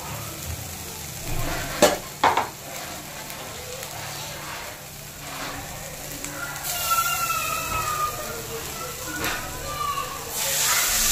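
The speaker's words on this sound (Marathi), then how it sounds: "त्याच्यामध्ये थोडंसं पाणी टाकून हा मसाला शिजवून घ्यायचा" Masala cooks with water in a pan, giving a moderate hiss and bubbling sizzle that swells into louder bursts in the second half, with a voice speaking over it.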